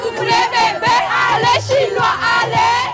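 A crowd at the Arc de Triomphe cheers and chants in loud, rhythmic waves of voices, repeated swells close and full, with a beat pulsing underneath.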